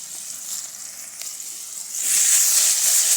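Mustard seeds, cumin, dried onion and green chilli sizzle in hot oil for tempering, a close, bright hiss that swells louder partway through.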